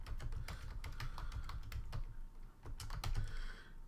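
Steady typing on a computer keyboard while entering a chart title in statistics software, with quick close key clicks in uneven bursts and a brief pause near the end.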